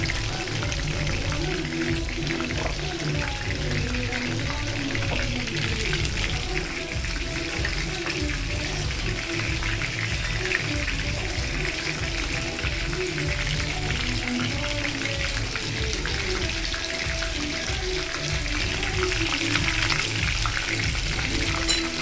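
Prawn pakodi deep-fry in a pan of oil, giving a continuous, even hiss and bubbling crackle that stays steady and close for the whole stretch.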